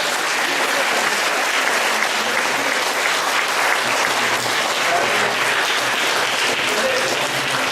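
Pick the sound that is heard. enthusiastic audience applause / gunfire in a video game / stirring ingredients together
enthusiastic audience applause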